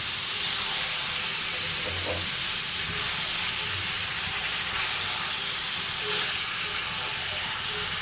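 Pieces of duck meat sit in a pan of spice masala, giving off a loud, dense, unbroken sizzling hiss from start to finish, with a few faint stirring knocks underneath.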